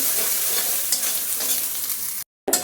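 Grated coconut and rice fry together in a hot pan, giving a steady, close crackling sizzle with occasional stirring scrapes; it cuts out abruptly near the end before resuming.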